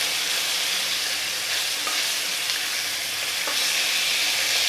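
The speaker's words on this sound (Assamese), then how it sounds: "কেতিয়াবা ডাঙৰ মাছ ভাজি থাকিলে খুব ভয় লাগে, তেলবোৰ চিটিকি আহে চকুলে।" Chital fish, part of a green pea and tomato curry, frying in hot oil in a pan, with a steady dense sizzle that continues throughout, close and fairly loud, and no one talking.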